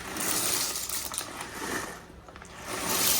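Dry macaroni pasta pours into a pot of hot water on a home stove, a close rattling, clinking patter that swells, eases briefly and builds again.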